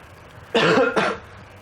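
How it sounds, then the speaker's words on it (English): A man coughs twice in quick succession, loud and close, with a short gap between the two bursts and quiet around them, during a Dawn of War 2 gaming session. "Bit of a cough."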